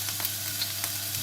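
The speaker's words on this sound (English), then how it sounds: "So we'll get those onions in that were chopped up really fine." Finely chopped onions sizzle in a meatball pan with browned meat residue, a steady close hiss with faint stirring scrapes and no talk.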